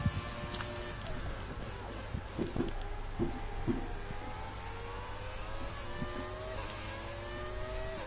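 Race cars in a video game roar past with revving engines and rising and falling pitch, several cars close together and continuous throughout without pause.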